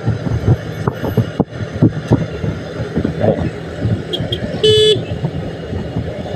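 A car horn toots briefly amid busy traffic noise and rumbling engines, with other horns faintly in the background.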